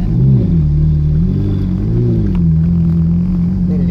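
A Ferrari driven in Milan sends out a loud, continuous low engine rumble whose pitch swells and dips as the revs rise and settle while it is put into first gear.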